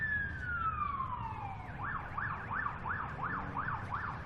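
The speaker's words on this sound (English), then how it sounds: "As we can hear the sirens in the background." Distant sirens wail in the background, one sweeping down in a long glide before switching to a rapid up-and-down yelp, fairly faint.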